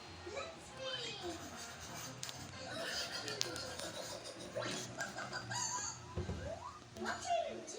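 Chickens cluck and a rooster crows across a busy backyard scene, with bird calls scattered throughout and people talking over them, including a voice.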